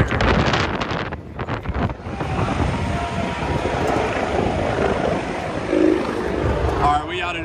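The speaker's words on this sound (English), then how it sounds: "It's windy out here." Gusty wind blasts straight into the microphone outdoors at a Dallas Cowboys stadium on game day, producing a steady, loud, low rumble with brief surges.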